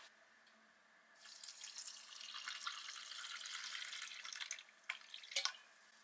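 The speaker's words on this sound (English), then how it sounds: "There's our hot water." Hot water pours into a pouch for a mocha drink from a Swedish arctic ration pack, a faint steady trickle lasting several seconds, then a few drips and small knocks.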